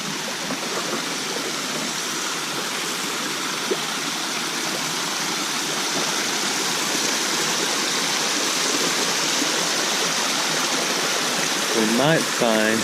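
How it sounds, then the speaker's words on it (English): Small woodland creek in Parkerson Mill Creek woods flowing steadily, a continuous close rush and trickle of water with a brief chirp near the end. "It's a pretty little creek,"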